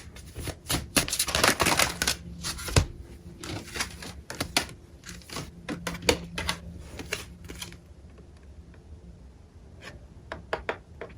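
Oracle cards being shuffled by hand: a busy run of crisp, papery slaps and riffles, close and fairly loud, thinning into scattered taps toward the end, with no voices.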